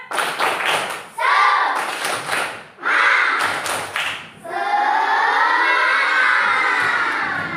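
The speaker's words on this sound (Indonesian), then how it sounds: "Coba kita tepuk semangat satu kali." Schoolchildren in a classroom do a rhythmic group cheer-clap, with bursts of loud, dense clapping broken by short pauses, then a long sustained shout or cheer. Excited voices mix with the claps.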